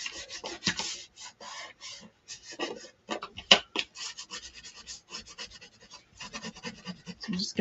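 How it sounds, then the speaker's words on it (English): Scratching and rubbing on paper and index card while a mini journal is assembled by hand, a close run of irregular rasping strokes and taps with short pauses, no talk. "Sorry for all the scratching."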